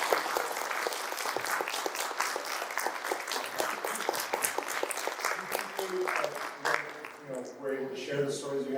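Audience applause at a San Diego Comic-Con 2025 panel, a steady wash of many hands clapping that runs the whole time and thins slightly near the end as a voice begins speaking.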